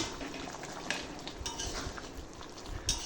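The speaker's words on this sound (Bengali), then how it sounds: "দেখো এবার আমি ভালোভাবে মিশিয়ে নিচ্ছি" A spoon stirs boiled peas and potatoes around a wok, giving soft scraping and light clinks of metal over a faint, steady frying hiss, close and fairly quiet.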